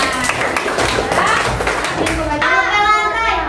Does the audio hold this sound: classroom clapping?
yes